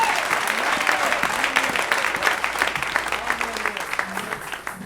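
A church congregation applauds and cheers for the Lord during a sermon, a dense, continuous wash of clapping with voices mixed into the crowd noise.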